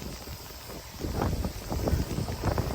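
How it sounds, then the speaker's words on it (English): Wind-driven rain during Hurricane Beryl, a broad steady rush that swells louder after the first second and keeps gusting, with no voices. "It's a windy rain, that's for sure"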